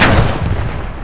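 A tank cannon in the WWII game Post Scriptum fires once, a loud, close, heavy boom with a sharp blast that decays into a rumbling tail.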